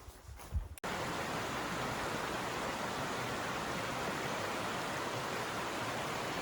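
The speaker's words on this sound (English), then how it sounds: "Nice little creek crossing." Creek water rushing steadily over a trail crossing on the Appalachian Trail, a dense, even wash of flowing water that starts abruptly after a brief muffled moment and stays loud and close.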